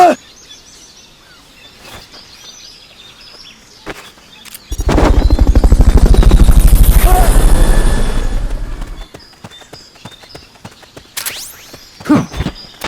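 A Fulton recovery extraction in Metal Gear Solid: Peace Walker: a sudden loud whooshing, rattling burst rises and swells for about four seconds, then fades, amid sparse game clicks and effects.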